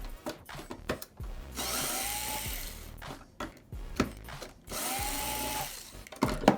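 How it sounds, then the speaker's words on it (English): A power screwdriver backing screws out of an Xbox One S, two bursts of whirring a few seconds apart, with handling clicks and taps between them, close by. "I'm going to remove those screws"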